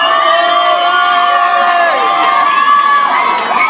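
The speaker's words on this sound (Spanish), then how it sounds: "Aplauso para número dos," Loud cheering and high-pitched shouting from a crowd of children and adults greets a contestant at a showcase event, a dense sustained roar of whoops with scattered squeals throughout.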